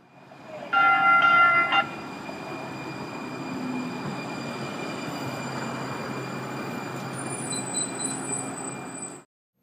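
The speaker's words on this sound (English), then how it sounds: "check out this train" A train passes in Arizona with a steady rumble of rolling cars, a bright ringing bell or horn burst early on, and thin high tones near the end, continuous and fairly close.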